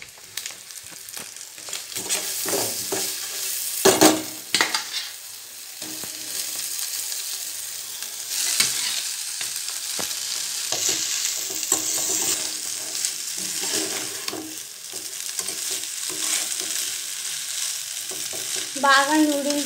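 Noodles are stirred into a frying pan of sauce with vinegar and soy sauce, a continuous sizzle broken by repeated scraping and tossing strokes of the spatula, close up.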